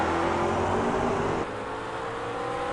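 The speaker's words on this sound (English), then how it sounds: "We look now at Blake Coppo and Saab battling for the lead in the McLarens." McLaren race cars in a Grand Am series race hold a steady, loud, high engine whine as they battle for the lead, and the pitch drops slightly partway through.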